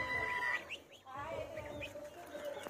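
Backyard chickens cluck and chirp while being given medicine, a close, busy flock with overlapping calls and a low murmur of voices.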